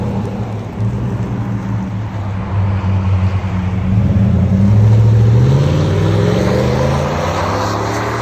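A 2017 GMC Sierra pickup with a 5.3L V8 and Flowmaster Super 40 Series exhaust revs loud and close, its deep rumble rising midway through and holding strong to the end, with no talk over it.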